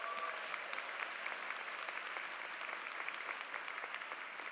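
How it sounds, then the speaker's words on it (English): Sustained applause from a commencement audience in a university event center, a dense continuous patter of many hands clapping at steady volume throughout with no voices standing out. "Give yourselves a round of applause."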